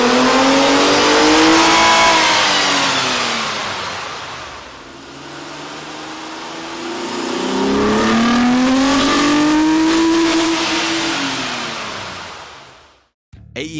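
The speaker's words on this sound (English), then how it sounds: "Here's a comparison of the car's sound on the Dyno with the stock OEM system versus" Nissan Maxima 3.5L V6 fitted with an AEM air intake, revving hard on a dyno: two loud rising-and-falling engine sweeps with intake roar, a brief lull between them, then a sudden cutoff near the end.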